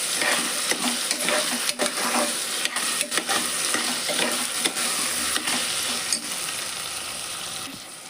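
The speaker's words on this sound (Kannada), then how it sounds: "ಇದನ್ನು ಫ್ರೈ ಮಾಡ್ಕೊಳ್ಳೋಂತ" Soaked green peas fry in hot oil in a pan, giving a steady, dense sizzle broken by repeated clinks and scrapes of a stirring utensil, with no talking.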